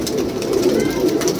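A Madrasi pigeon coos steadily at close range, a soft continuous murmur among other birds, with faint voices talking nearby.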